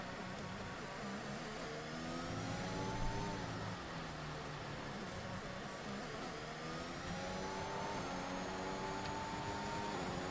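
An onboard Mercedes Formula 1 car engine in a racing video game drones steadily at a moderate level, its pitch climbing and falling through gear changes, with a faint whine above and no speech.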